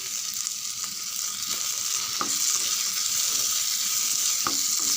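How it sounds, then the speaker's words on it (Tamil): Grated coconut and tamarind for coconut thuvayal sauté in a pan with a steady, close hiss of frying. A few sharp clicks of a spoon stirring against the pan break through it. "இது கூடவே புளியும் சேர்த்து வதக்கிடலாம் ஃப்ரெண்ட்ஸ்"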